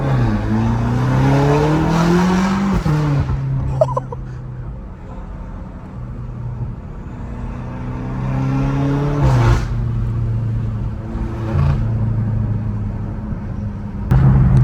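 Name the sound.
car engine turbo noises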